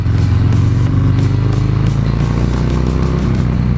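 A 2018 Harley-Davidson FXDR 114 motorcycle accelerates hard, its engine a loud, steady, throaty drone that rises gently in pitch for several seconds.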